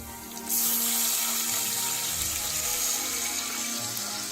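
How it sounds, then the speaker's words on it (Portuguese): About 700 ml of water is poured into a frying pan over browning homemade seasoning while cooking. A steady, rushing splash starts abruptly and keeps going, close and loud. "Agora eu vou colocar a água,"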